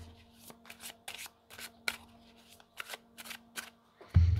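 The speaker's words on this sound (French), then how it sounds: "pour au moins avoir de la place pour mélanger un petit peu les cartes" Tarot cards shuffled by hand on a table, a quick series of about a dozen crisp riffling bursts close up, ending in a louder thump.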